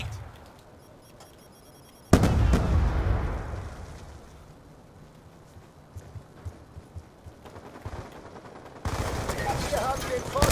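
Grenade blast and bursts of gunfire in a Call of Duty: Black Ops 2 multiplayer match, with a loud, sudden explosion followed by sustained rattling shots and a second loud burst near the end.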